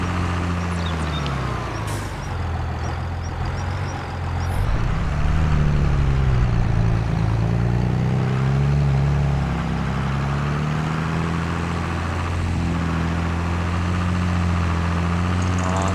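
John Deere tractor engine working hard while clearing trees, a loud continuous drone that rises and falls in pitch as the load changes, heard up close without talk.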